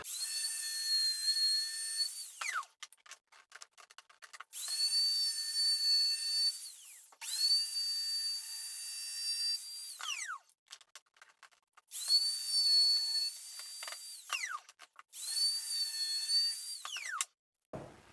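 An electric router cuts the edges of a timber handle clamped in a vise, rising to a high whine for a few seconds at a time, five separate passes with short quiet gaps between them.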